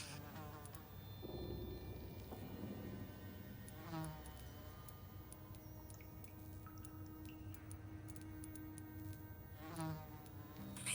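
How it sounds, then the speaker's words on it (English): Persistent insect buzz of a fly inside the vampire game Vampyr, droning steadily over layered game ambience and music for the whole stretch, with a few sharper swells where the fly seems to pass closer. "The buzzing of the fly."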